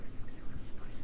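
Brief scratchy strokes of writing on a board in a classroom, quiet and close, with faint breathy sounds.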